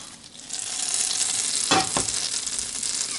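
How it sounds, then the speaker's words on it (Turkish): Butter melting in a pan for a salmon omelette hisses and sizzles steadily up close, with a brief scrape of stirring in the middle and no talk. "Tereyağı erittik mi?"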